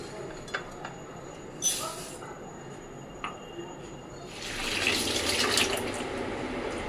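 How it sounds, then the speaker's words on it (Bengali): Flattened rice (chira) being washed in water, a running, splashing wash that swells in the second half after a few scattered clinks and knocks, with voices faintly in the background. "চিড়েটা ধুয়ে নিয়েছি, এবার এটা ঢেকে রাখবো।"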